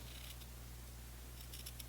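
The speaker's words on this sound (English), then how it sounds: "I'm just going to take my scissors here and trim" Scissors trim through material along a fold, a few quiet crisp snips clustered at the start and again near the end over a low steady hum.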